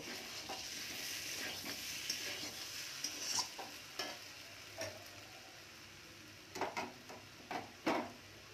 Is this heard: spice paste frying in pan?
yes